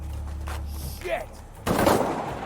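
Heavy gunfire from the video game Shadow of the Tomb Raider, first faint and muffled, then a sudden dense burst of rapid shots that keeps going to the end, with voices in the background.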